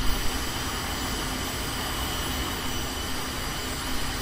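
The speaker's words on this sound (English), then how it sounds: "And we should start to hear the engine fire up." The turbine engine of an attack helicopter in VTOL VR whines as it starts up, a loud, steady roar that holds evenly throughout with no talking.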